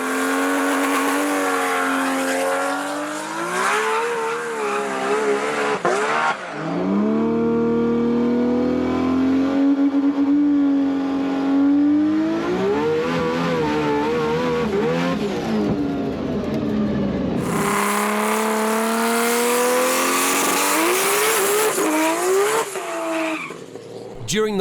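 Nissan GT-R race cars of over 2000 horsepower run down an airport runway, engines roaring and rising through the gears, tyres squealing, with loud close revs swelling and falling through repeated passes.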